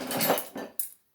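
Metal hand mixer beaters and other utensils being sorted in a kitchen drawer, giving a few close clattering, scraping clinks in quick succession that fade to quiet.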